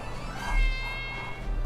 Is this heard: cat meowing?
yes